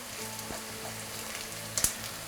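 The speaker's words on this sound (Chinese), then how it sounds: "翻面以后呢，火就可以稍微开大一点，慢慢去煎炸它。" Flipped lotus root patties fry in oil in a flat pan over slightly raised heat, a close, even sizzle with a brief louder clatter near the end.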